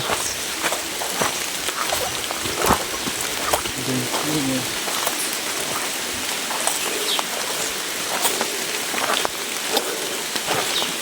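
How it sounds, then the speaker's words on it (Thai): Rain falls outdoors in a steady, close hiss with scattered sharper drops, while a voice speaks briefly partway through. "อุปสรรคของเราก็คือฝนตกนะฮะ"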